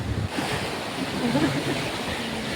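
Broad roar of sea waves and wind behind a speaker, a steady noisy wash filling the whole stretch with mild gusting rumble at the low end.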